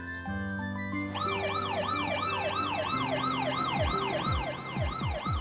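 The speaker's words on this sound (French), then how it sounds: "l'ambulance roule très vite. Tout le monde la laisse passer." A cartoon ambulance siren wails in two tones, rising and falling steadily over a low engine hum, with a few deep swooping tones near the end.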